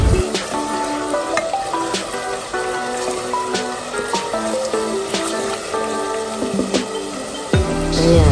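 Water snails sizzle steadily in a hot pan with cumin and coriander powder, the frying hiss constant and close, broken by scraping clinks of stirring throughout.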